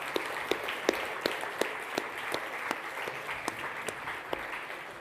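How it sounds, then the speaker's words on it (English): An Ad Revenue Europe 2015 conference audience applauds its speakers and panelists, with a sustained wash of clapping marked by a few sharp, nearby individual claps at a regular pace. "So a big round of applause, please, for all of them."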